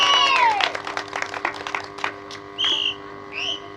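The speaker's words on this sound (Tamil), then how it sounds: "எல்லாம் ஜோரா வருவோம்னு கைதட்டுங்க" An audience at a village stage comedy performance in Veeramangalam, Ponnamaravathi, claps and cheers while sharp shrill whistles ring out repeatedly over a steady hum of background music and crowd noise.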